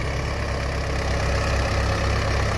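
John Deere 5050D diesel tractor idling close by, a steady low chugging rumble with an even rapid beat and no other sounds.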